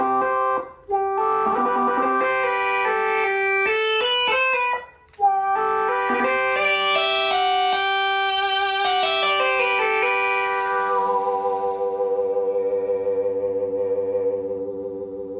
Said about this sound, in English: And with the hold mode, it sounds like this. The first note gets held.